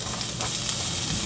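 Minced garlic sizzling in a pan while cooking a meatloaf dinner: a steady, dense frying hiss with faint stirring, close and even throughout.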